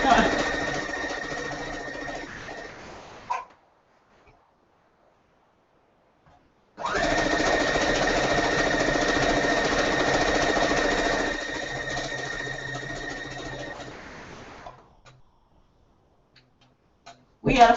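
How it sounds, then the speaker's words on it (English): Sewing machine stitching quilt fabric in two long steady runs, close and clear, with a pause between them and a short burst at the very end. "Nothing like the end of the long week to put the sewing pedal to the metal."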